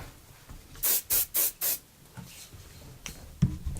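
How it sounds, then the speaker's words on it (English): Four short bursts of aerosol spray hiss in quick succession, close and fairly loud, followed by quiet handling noises. "So I am going to spray a little on my hair."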